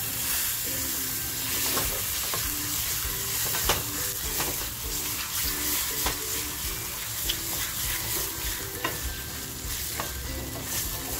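Prawns fry in a masala in a pan with a steady, fairly loud sizzle, punctuated by regular scraping clicks of stirring throughout; no one speaks.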